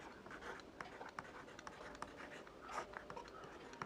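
Marker or chalk writing notes on a board during a chemistry lesson, a soft, steady scratching with small taps, faint against a quiet room, no speech.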